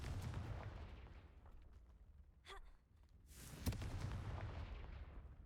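A Confringo fire spell bursts in Hogwarts Legacy, a sudden whooshing blast with a crackling flare that rises and then fades over a low game rumble. A brief breathy vocal sound comes just before the explosion.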